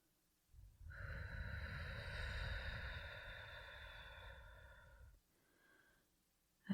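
Deep exhale during a guided breathing exercise: one long, close, airy breath lasting several seconds before fading, followed by a softer breath.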